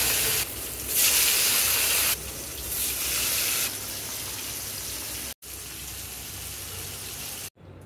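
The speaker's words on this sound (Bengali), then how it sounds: "রুই মাছগুলো ভালোভাবে ভেজে নিব।" Rohu fish pieces frying in hot oil in a pan give a loud, steady, broadband sizzle that swells and eases in waves, broken by two short silent cuts.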